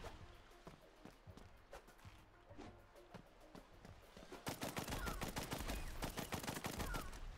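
Gunfire in the Blast Brigade video game, rapid bursts of shots that build into a dense, continuous volley in the second half.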